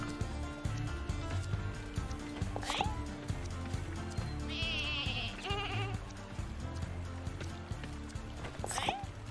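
Sheep bleat in the video game Lumberhill, several cries over busy game sound effects and music, with hoof-like clatter and a voice talking at points.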